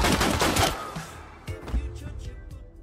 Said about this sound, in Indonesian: polisi di sana harus memberondong Regina dengan tembakan